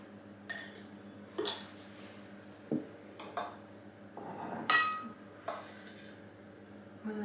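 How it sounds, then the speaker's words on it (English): Hot homemade lemon curd is spooned into a glass jar, giving a few sparse, light clinks and taps of spoon against glass spaced out over a quiet background. "I'm just going to spoon it in. Making sure it comes right to the top."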